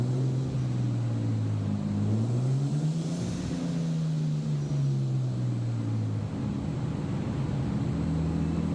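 A BMW E36 fitted with an eBay turbo kit runs on a dyno, a loud continuous engine drone whose pitch rises and falls through the run, with no voices.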